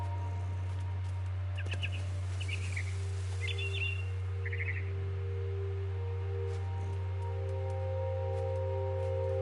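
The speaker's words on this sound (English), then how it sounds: "Then I heard chirping outside my window." A barn swallow in the video game What Remains of Edith Finch chirps in several short twittering bursts, fairly faint over a constant low hum, before falling quiet.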